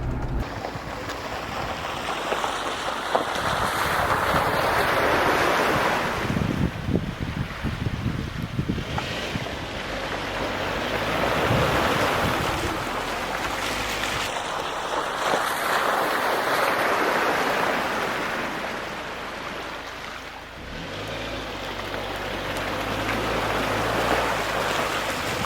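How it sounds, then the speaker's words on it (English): A truck fitted with Fox shocks and Goodyear Wrangler tires drives through a deep puddle in a parking lot, giving loud rushing washes of splashing water and heavy wind buffeting on the microphone that surge and ease repeatedly. "I'm gonna put the camera outside and we're gonna drive through it"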